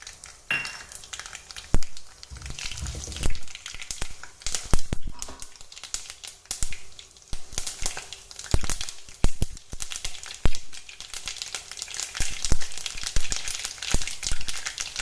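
Mustard seeds crackle and splutter in hot oil in a pan during tempering for a gongura (sorrel leaf) masiyal, with dense irregular pops and clatter continuing steadily throughout.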